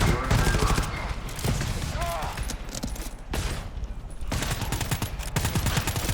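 Bursts of automatic gunfire from the co-op shooter game GTFO, loud and repeated across the clip with a short lull in the middle, mixed with players talking over the shots.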